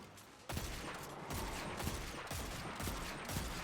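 Rapid video game gunfire, a steady stream of close, regular shots that kicks in abruptly and keeps going at a moderate level, with no talking.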